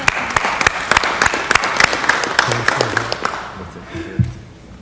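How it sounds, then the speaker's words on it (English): Audience applause fills a city council meeting chamber, a steady wash of many hands clapping that fades out toward the end, with a brief voice or bump near the close. "that needs a round of applause"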